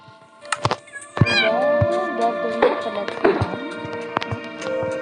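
Cats in the Minecraft video game give several loud, close meows, with drawn-out, bending cries spaced across a few seconds over a faint steady tone and occasional clicks.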